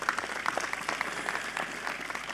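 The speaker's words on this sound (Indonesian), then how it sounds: "Tepuk tangan dulu untuk semuanya." Brief applause from a religious gathering's audience, faint and somewhat distant clapping with a few sharp hand claps standing out.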